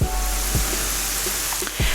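Chopped onion sizzles and fries in hot ghee in a pan, giving a steady close crackle with a few brief stirring scrapes and no talking.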